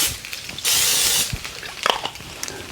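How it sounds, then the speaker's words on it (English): Cooking spray hisses from a can in a short, steady burst of about half a second onto a crunch wrap, made with sloppy joe filling and Fritos, as it cooks in a pan. Faint kitchen clatter follows. "Now I will go ahead and spray a little cooking spray on top of that."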